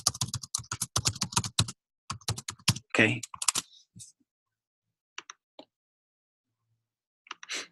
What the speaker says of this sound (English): all I'm doing is typing in